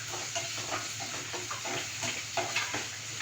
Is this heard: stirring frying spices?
yes